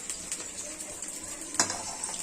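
Sliced okra frying in hot oil in a pan, with a steady, soft sizzle and occasional light clinks of a utensil stirring against the pan.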